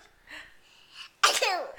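A voice mimics a sneeze: soft breathy intake sounds build up, then a sharp, loud burst, alone and close.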